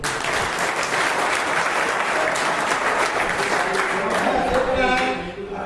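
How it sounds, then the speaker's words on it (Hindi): A crowd at a political party meeting in India claps loudly in unison, a dense burst of applause that holds for several seconds and then trails off. "आपको भी एक ताली बजाओ सब लोग।"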